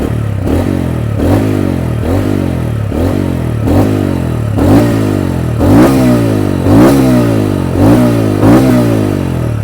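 A TVS Ronin 225 motorcycle engine is blipped repeatedly, about nine short revs in a steady rhythm, each rising and falling back to a throbbing idle, close and loud with no talking.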